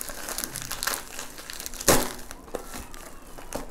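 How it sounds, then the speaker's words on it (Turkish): A plastic bag holding replacement ear pads for a Logitech G430 gaming headset is torn open by hand, giving bursts of crinkling and crackling with one louder rip near the middle, close and without voices. "Şimdi ben şöyle hemen yırtmaya çalışacağım poşeti."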